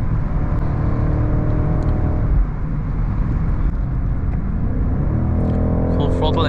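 A 2023 BMW X7 M60i luxury SUV fitted with a Larte Design body kit accelerates at full throttle, its engine a loud, close, sustained roar that shifts tone partway through and sits under talk in the cabin.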